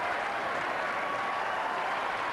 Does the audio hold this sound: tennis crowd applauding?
yes